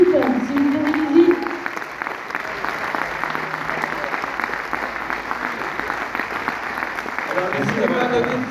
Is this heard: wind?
no